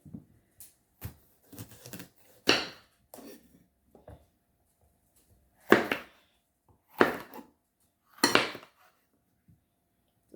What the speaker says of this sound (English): The next step I'm going to take now is to slice them